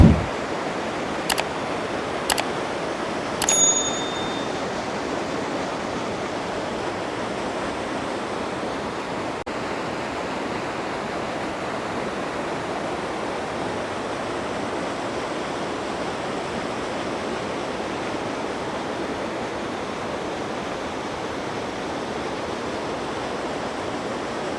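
Powerful waterfall in Switzerland roaring as a steady, dense wash of noise heard from nearby, unbroken throughout, with a few brief sharp clicks at the start.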